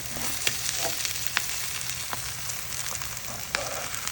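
Steak and eggs fry together in a pan with a constant dense sizzle and spitting hiss close by, punctuated by occasional sharp pops and light utensil clicks.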